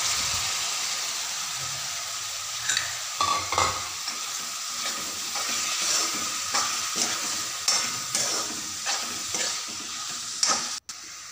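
Broccoli sizzles in a hot pan of oil while being stirred, a steady frying hiss with intermittent scraping stir strokes throughout, close and moderately loud, no talking.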